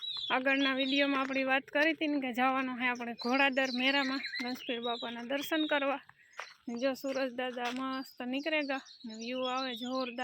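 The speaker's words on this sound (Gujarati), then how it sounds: "પક્ષીનો અવાજ આવે ને હા શાંત વાતાવરણ છે" Birds chirp and tweet in a quiet morning setting, mostly beneath someone talking continuously nearby.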